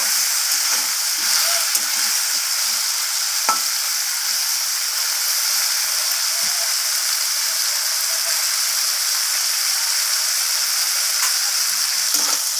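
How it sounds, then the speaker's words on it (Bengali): Okra and bitter gourd, mixed with turmeric and salt, fry in a pan with a constant bright sizzle, broken now and then by a soft stirring scrape, no voices heard. "আর লবণটাকে মিশিয়ে নিয়ে আমি ভাজা করে নেব"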